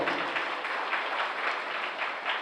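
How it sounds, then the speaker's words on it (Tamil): A congregation at a novena mass in St. Ignatius shrine church, Sathampatti, claps in welcome: brief, steady applause with a soft pulsing rhythm, heard from within the hall. "வருக வருக என்று கைத்தட்டி நாம் வரவேற்போம்."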